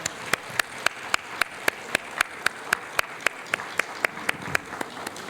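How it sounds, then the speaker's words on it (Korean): A church congregation at a Bible-course completion ceremony claps in slow, regular, rhythmic unison, each sharp clap evenly spaced over a soft background murmur. "우리 뜨거운 박수와 환호를 보내주시고"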